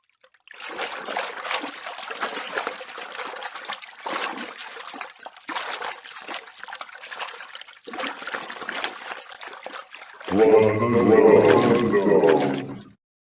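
Water trickling in a space robot video game, heard in several steady runs separated by brief gaps, closing with a louder, more tonal gush near the end.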